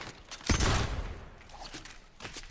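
A sudden loud shotgun blast in Fortnite, followed by a decaying echo and a softer second burst near the end.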